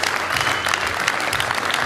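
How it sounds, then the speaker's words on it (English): Audience applause for the athletes at the close of a submission-only jiu-jitsu tournament final, a dense, steady wash of clapping that holds at an even level for the whole short stretch. "And round of applause please for all the athletes today."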